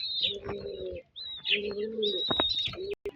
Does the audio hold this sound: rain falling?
no